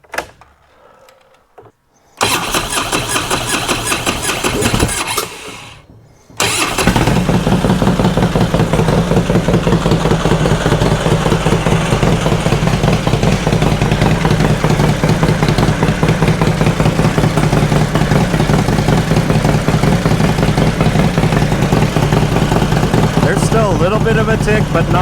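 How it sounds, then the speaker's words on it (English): A car engine with Woods camshafts idles steadily and loudly, a faint light tick riding on its even hum after a couple of short bursts at the start. "I was told that's the camshaft, the Woods cams in these. They just make a little bit of noise"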